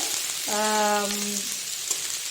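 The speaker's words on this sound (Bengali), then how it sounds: "পেঁয়াজটা কুচিয়ে নেবো আর কুচিয়ে নিয়েছি আর এই যে ভেজে নেবো" Chopped onion frying in hot oil, a steady close crackling sizzle throughout, with a brief hummed tone rising over it partway through.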